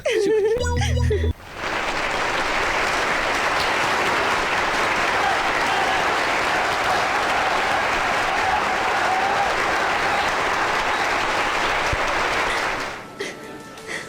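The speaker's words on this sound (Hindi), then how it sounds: "कैसे तालियां बजा रहे हैं सब" A large audience at a stage program breaks into sustained, loud applause that lasts about ten seconds before it fades, with brief voices heard just before it starts.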